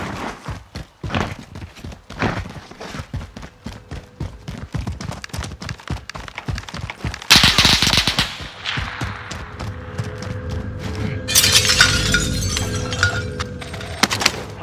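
Assault rifle fire in a video game: dense volleys of sharp, rapid shots crackling steadily, with a couple of louder, heavier bursts midway and near the end.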